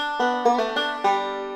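A short bluegrass banjo phrase, a middle reverse roll: a handful of bright plucked notes in quick succession, ringing out clearly and letting the last note sustain.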